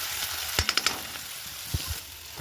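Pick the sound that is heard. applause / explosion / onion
onion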